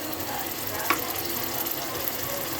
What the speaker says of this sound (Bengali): হলুদের গুঁড়া, মরিচের গুঁড়া এবং আদা রসুনগুলো আমি ভালো করে একটু ভেজে নিব তেলের মধ্যে